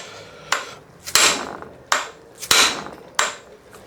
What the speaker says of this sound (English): And then I use just a hammer on the end of it.